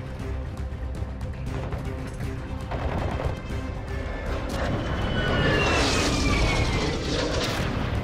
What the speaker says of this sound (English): Hostile precision airstrike.